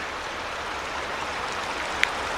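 Steady rushing of a creek flowing beside an abandoned highway, a close, even wash of water with one small sharp tick near the end.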